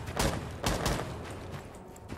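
Rapid bursts of gunfire in a Rainbow Six Siege round, two sharp clusters of shots close together near the start and middle, then quieter trailing reports.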